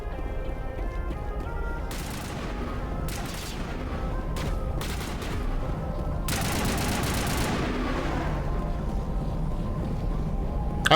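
Gunfire in the sci-fi shooter Mass Effect: several sharp bursts of shots over a steady background of game noise, with a longer, denser volley near the end.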